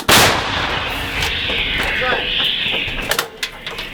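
A single loud gunshot cracks right at the start and rolls into a long fading echo, followed by scattered clicks and faint bird sounds.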